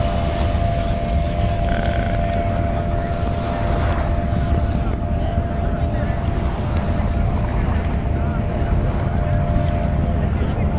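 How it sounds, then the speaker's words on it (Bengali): Speedboats cruise near large ships along a seashore, a continuous loud rumble of boat motors and water mixed with heavy wind buffeting, while a person talks. "অনেকে স্পিড বোটে ঘুরতেছে এখনো পর্যন্ত।"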